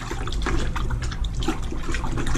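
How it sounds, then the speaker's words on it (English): Water sloshes and trickles steadily as a brush stirs and rinses a cleaning solution inside a bucket fitted with a grit guard, a close, continuous wet swirling with no talking. "just put this in here and kind of rinse it out a little bit"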